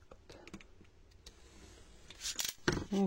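Scissors cutting paper while folding a small paper pouch: a few quiet snips early, then a louder cluster of sharp close cuts near the end, with almost no talk.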